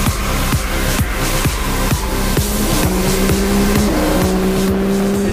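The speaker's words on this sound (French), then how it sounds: "le bloc Yamaha rugi via un échappement intégralement réalisé en titane" A Yamaha motorcycle engine fed by forced-air intake barks loudly through a full titanium exhaust, rhythmic firing pulses and rising revs sounding close and dominant with no voices.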